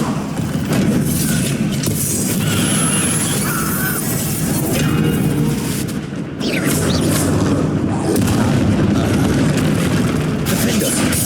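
Spell explosions from the Bombarda charm in the Hogwarts Legacy video game give dense, repeated booming bursts over a continuous battle din, loud throughout with a brief dip near the middle.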